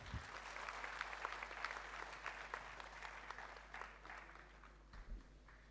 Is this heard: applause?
yes